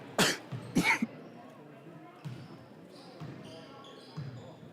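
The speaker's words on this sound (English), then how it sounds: "still dealing with that darn cough" A basketball commentator coughs twice in quick succession near the mic early on during a boys' high school game, followed by faint gym noise and a few soft later bursts.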